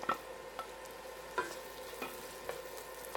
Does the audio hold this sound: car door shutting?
no